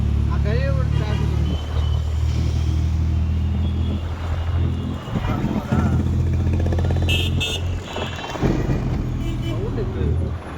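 City road traffic in Hyderabad, a loud near rumble of passing cars and motorcycles with engine revs and horn-like tones, with people talking over it.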